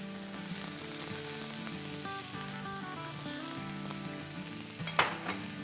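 Chopped onions sauté in a pan for a spinach stew, giving a steady, close sizzle under a tonal musical backdrop, with a short clatter near the end.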